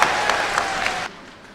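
An audience claps together during a Tamil speech, a dense burst of applause lasting about a second before cutting off abruptly.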